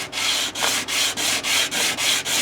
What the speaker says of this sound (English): Let's just sand on this little bridge piece a little bit.